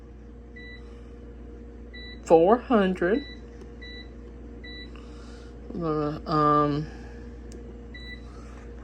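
An air fryer loaded with eight hot dogs gives short, faint, high beeps at a steady pace as its buttons are pressed to set time and temperature, while a person talks over them.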